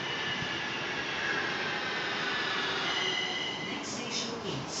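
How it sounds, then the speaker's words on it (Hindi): Metro train on the Gurugram rapid metro pulling into a station, a loud steady rumble of wheels and motors close by, with brief squeals and chimes near the end. "आ गई मेट्रो।"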